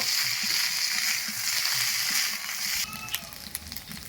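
Cauliflower manchurian fries in a pan with chopped coriander, giving a steady close sizzle. It shifts to brief scraping and clicking stirs near the end.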